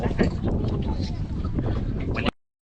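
A boat speeds along a river, its engine and rushing water roaring loud and steady with wind buffeting the microphone, then cutting off abruptly near the end.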